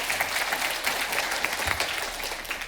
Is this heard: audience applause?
yes